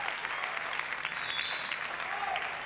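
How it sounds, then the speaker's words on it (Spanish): Studio audience applause on an Argentine Saturday TV program, a soft, distant, even wash of clapping that holds steady throughout. "Un aplauso."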